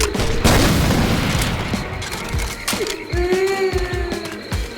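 Rapid gunfire and booming blasts from a Left 4 Dead 2 zombie shooter game pile up into a dense, loud barrage with mechanical clatter layered on top.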